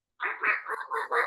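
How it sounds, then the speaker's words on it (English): A pet fox lets out a short run of high, nasal chirps and squawks, five quick bursts close up and fairly loud, with silence before the first call. "I didn't know that's what a fox sounded like"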